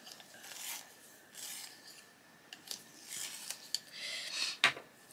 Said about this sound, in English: I will just sharpen it.